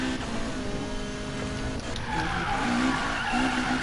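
Tires skid and squeal continuously on a Lotus drift car in a racing video game, a steady loud screech with engine tone underneath, no talking.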